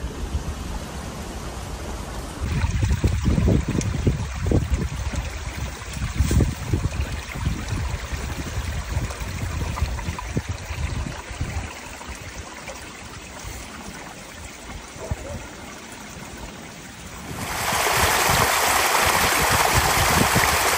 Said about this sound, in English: It's nice to have running water on the land.